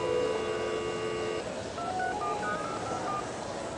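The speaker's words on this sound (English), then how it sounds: "generates the code necessary to dial the telephone" A computer-controlled home phone system dials out, producing a run of telephone DTMF tones: a steady multi-tone chord first, then a quick sequence of short, distinct beeps, clear and close with no talk.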